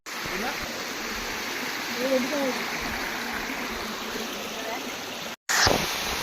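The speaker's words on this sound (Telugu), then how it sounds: "సో ఇక్కడ కూడా మనకు చిన్న వాటర్ ఫాల్స్, ఇది కూడా వాటర్ ఫాల్స్ లెక్క." A small waterfall along a rainy-season riding route flows in a constant broadband rush; faint talk rides over it, and the sound cuts out briefly near the end before resuming.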